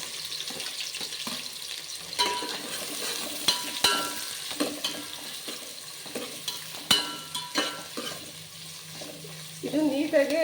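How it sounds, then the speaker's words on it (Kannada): Chopped onions with cardamom and cinnamon fry in oil in a pan for vegetable pulao, giving a steady close sizzle broken by repeated scrapes and clinks of stirring. "ಇದನ್ನು ಚೆನ್ನಾಗಿ ಫ್ರೈ ಆಗಬೇಕಿದು."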